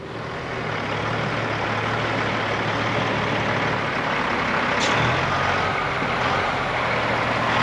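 A big white truck's engine rumbles steadily nearby, loud and continuous, with a brief hiss of released air near the end and no talking.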